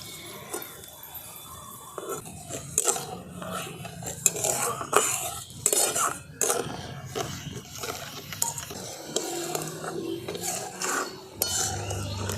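Sugar syrup with crushed cardamom stirred in a pan, heard as soft, irregular scraping and clinking of a spoon against the metal, close and fairly quiet, with no talk.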